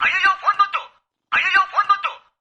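Two rings of a telephone on an outgoing call, each a warbling burst about a second long with a pause between, clear and close as the line connects.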